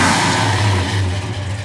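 A 1969 Chevrolet Chevelle's engine runs with a steady low rumble and a slight rise in revs, close and alone with no voices.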